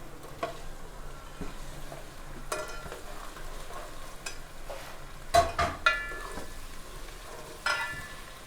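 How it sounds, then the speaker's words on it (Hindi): Turmeric is stirred and roasted in a pan for Indian cooking, giving a faint, steady sizzle with scattered scraping and clinking of a spoon against the pan and no talking. "सबसे पहले हल्दी जाएगी। 1 मिनट के लिए इसको हिला के अच्छे से भून के"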